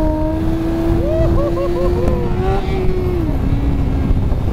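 A motorcycle engine revs through a wheelie on a drift outing, a steady loud drone with rising pitch sweeps as the throttle opens, easing back near the end under constant road and wind noise.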